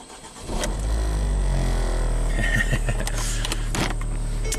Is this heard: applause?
no